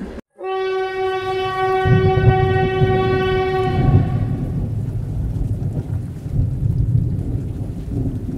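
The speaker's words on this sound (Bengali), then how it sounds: "ট্রেন যখন চলছে তখন বাইরে তুমুল বৃষ্টি।" A running train sounds a long, loud horn blast, then gives way to a steady rumble of the moving train mixed with heavy storm rain outside.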